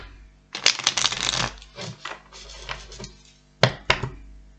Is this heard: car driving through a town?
no